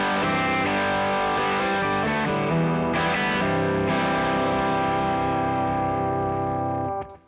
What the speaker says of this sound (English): Box of rock.